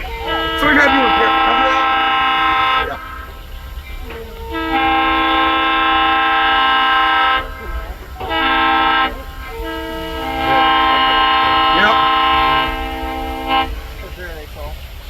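A diesel locomotive horn at Strasburg Railroad sounds the grade crossing pattern: two long blasts, a short toot and another long blast, loud and near over a low rumble.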